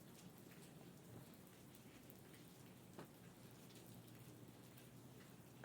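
Steady rain falls on a rainy day, a soft, even hiss of drops that stays faint and continuous with no voices.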